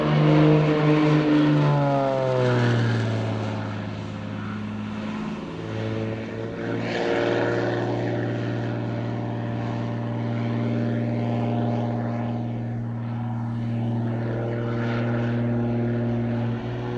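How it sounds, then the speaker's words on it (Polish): A propeller aerobatic airplane engine, an Extra 330 SC, drones loudly, its pitch sliding down then holding steady as the aircraft passes and maneuvers, with a strong sustained hum. "latam na najlepszym samolocie akrobacyjnym na świecie, czyli Extra 330 SCE"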